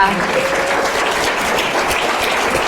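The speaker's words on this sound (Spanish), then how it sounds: "un aplauso enorme para..." A meeting crowd gives a big round of applause, dense steady clapping filling the room for a few seconds without a break.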